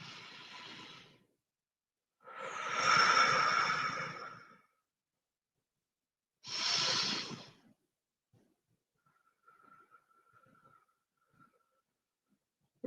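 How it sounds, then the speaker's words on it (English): Slow, deep breathing during a qi gong exercise: a long exhale, then a fuller breath and another shorter one, each a soft airy rush heard up close, followed by near silence with a faint hum. "Breathing out."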